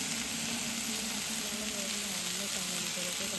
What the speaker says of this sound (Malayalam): പിന്നെ തക്കാളിയും ഇതെല്ലാം കൂടെ ഒന്ന് വഴറ്റിയെടുക്കണം.